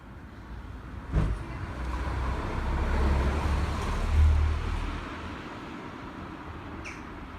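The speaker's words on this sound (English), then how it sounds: "Obviously there could be traffic going by" Road traffic rumbles past outside a shop, a steady low roadway wash with a couple of louder vehicle swells, heard from indoors with no talking.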